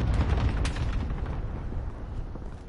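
Gunfire and explosions rumble through a Call of Duty: Modern Warfare firefight, a sniper rifle among the shooters, with a sharp crack early on over a steady, dense low roar of battle, loud and without voices.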